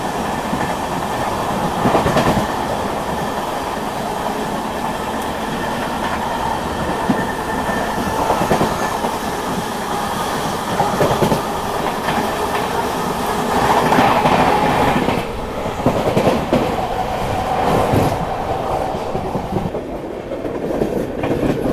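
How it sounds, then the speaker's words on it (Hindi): Rajdhani Express train running at speed and overtaking the stationary Awadh Express, with steady rumble and clickety-clack of wheels on rail and occasional wheel squeal, continuous and close throughout. "ये खड़ी है अवध एक्सप्रेस को ओवरटेक कर रहे हैं हम।"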